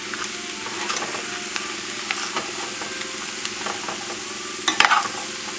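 Vegetables sauté in a skillet over a high flame for a pork hock dish with corn and lima beans, a steady close sizzle with scattered stirring scrapes and a louder clatter near the end.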